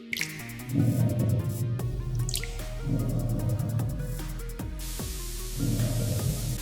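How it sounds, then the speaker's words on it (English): Persimmons being washed in a fruit juice factory: water splashes and drips over the fruit in repeated surging bursts, with squishy wet sounds and a steady machine background, close and moderately loud. "Washing process. Sanitizing the fruit."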